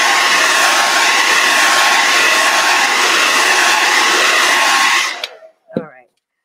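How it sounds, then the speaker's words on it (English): A hair dryer blows steadily and loudly on a painted page, a continuous whooshing hum with a faint whine, then switches off near the end followed by a brief clatter as it is set down. "I'm going to blow dry this just so we don't get any more smudges"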